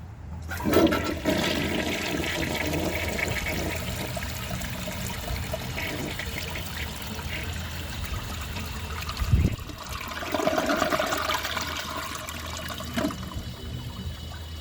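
1977 Kohler Highline toilet flushing a washcloth and grocery bag together: a loud, close rushing flush that swirls and gurgles steadily, then trickles as the tank refills.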